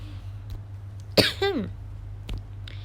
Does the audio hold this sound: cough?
yes